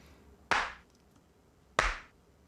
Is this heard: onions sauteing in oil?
no